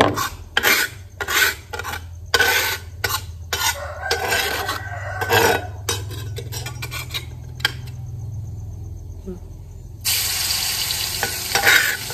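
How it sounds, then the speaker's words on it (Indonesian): Breakfast fries in a pan at home, with steady sizzling, stirring scrapes and clinks of a utensil against the pan, near and fairly loud, broken by brief pauses. "pagi kali ini pengen goreng sarapan"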